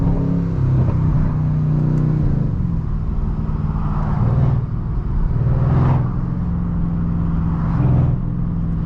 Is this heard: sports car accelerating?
yes